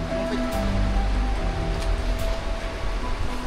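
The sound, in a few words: heavy rain on the road to Baguio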